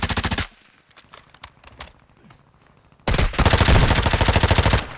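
Rapid automatic gunfire rattles in a video game firefight, a loud sustained burst that stops, then scattered single shots and clicks before another long, intense volley erupts close by.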